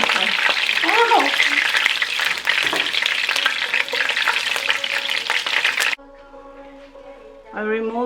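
Chicken drumsticks fry in hot oil with a loud continuous sizzle and crackle, a voice briefly breaking in, before the frying cuts off and a quieter stretch follows with a short exclamation.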